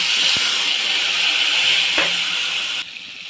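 Spice paste mixed with water and added to hot oil with bay leaf and five-spice seeds in a wok sizzles in a loud, steady hiss close up, a couple of sharp crackles breaking in before the sizzle drops off near the end.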